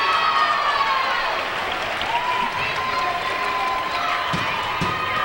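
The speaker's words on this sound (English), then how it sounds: "A very loud Indian crowd" Loud crowd at a women's college volleyball match, sustained cheering and applause filling the gym, with whistle-like tones and an announcer talking over the din.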